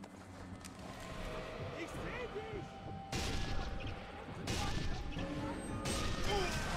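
Pistol fire in the World War II sniper shooter Sniper Elite 3 comes as a few sharp, faint cracks amid game noise, with someone talking over the action.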